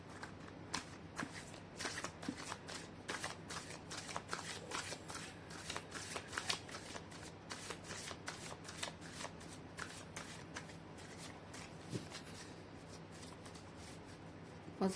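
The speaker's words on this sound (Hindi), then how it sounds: "मैं कर लेती हूँ कार्ड की शफलिंग।" Tarot cards are shuffled by hand, a quiet, close sequence of rapid papery riffles and flicks with soft taps, continuing steadily throughout.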